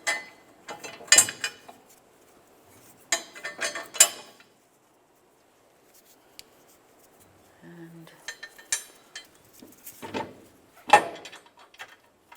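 Ratchet clicking in short bursts while tightening leaf spring hanger mounting bolts on a 1994-2002 Dodge Ram 2500, close by, with metallic clinks and pauses between turns.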